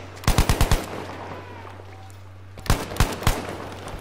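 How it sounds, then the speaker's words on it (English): Bursts of automatic gunfire in the shooter game Battlefield V: a quick run of about five close shots, a pause, then another rapid burst of several shots, loud over a steady low hum. "I'm just shooting now."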